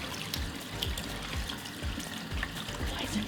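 Water runs steadily from a tub faucet while ketchup is rinsed out of long hair, a continuous close splashing with irregular pulsing spatters and no voices.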